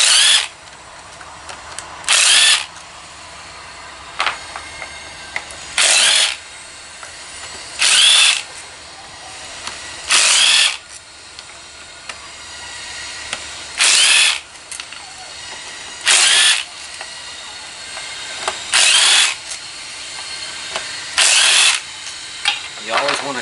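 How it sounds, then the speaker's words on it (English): A power drill backs screws out of a Dodge Charger "General Lee" repeatedly in short bursts, about ten sharp high whirring spins of a second or so each, separated by quieter pauses with faint background noise. "I'm going to go ahead and start zipping the screws out."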